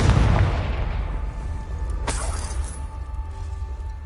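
A Confringo fire-blast spell explodes in Hogwarts Legacy on PS5, a single sharp boom about two seconds in, preceded by a heavy low rumble and followed by a lingering hum.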